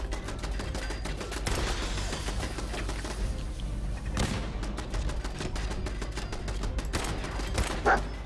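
Gunfire in the video game Fallout 4 comes as rapid repeated shots fired at a rock. The dense crackling bursts are loud and steady over a constant low game rumble.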